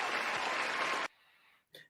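A short round of applause, a dense burst of clapping that stops abruptly after about a second, followed by a faint tail and a brief click.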